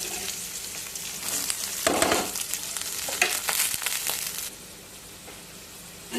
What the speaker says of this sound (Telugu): ఇలా ఫ్రై అయిన తర్వాత ఉల్లిగడ్డలు వేసుకోవాలండి. ఉల్లిగడ్డలు కూడా ఫ్రై చేసుకోవాలి.